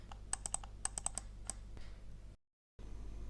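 Typing on a computer keyboard produces a quick run of close, crisp key clicks in uneven bursts, then a few quieter taps before a brief silent gap.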